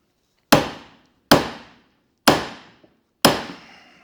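Four evenly spaced, loud hammer blows on metal, each ringing briefly before the next strike, hammering on a seized king pin spindle of a 1962 Volkswagen Beetle.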